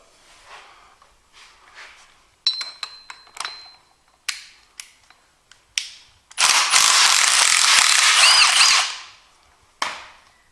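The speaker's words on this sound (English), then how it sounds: "this one takes a 9/16 socket. And you just spin this around" Ratchet of a socket wrench spinning on 9/16 axle shaft bolts during a Ford 9-inch axle swap, heard as several short clicking bursts, then a long continuous ratcheting run and a final brief burst, close and loud.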